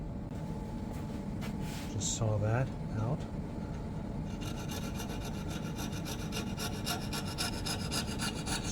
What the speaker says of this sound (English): Just a little jeweler's saw, fret saw.